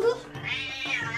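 A cat meowing up close, a drawn-out rising and falling meow followed by a second shorter one, fairly loud and alone.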